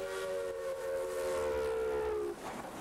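A steam locomotive whistle blows one long, loud, steady tone for about two seconds and then cuts off, with the rumble of the train running underneath.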